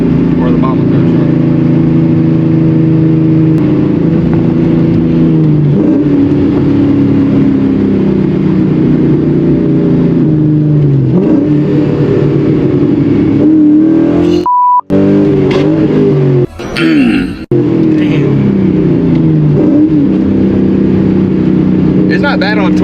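1999–2004 Ford Mustang pulling hard through the gears from inside the cabin, a loud, close engine roar rising in pitch with each gear, broken by brief shift dips and a gear clunk, while someone talks over it.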